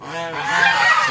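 Farm ducks calling in a short burst of nasal, honking quacks, fairly close and overlapping, with little else around.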